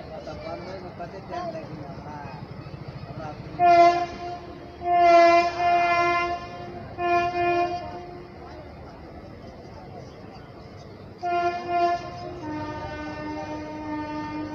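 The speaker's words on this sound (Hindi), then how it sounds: "तो दोस्तों इसी के साथ अपनी ट्रेन पहुंच चुकी है सहरसा जंक्शन के प्लेटफार्म नंबर 5 पे।" A passenger train on the Jhanjharpur to Saharsa line rumbles along steadily while its horn sounds in several loud blasts, one long and others shorter, with someone talking over it at times.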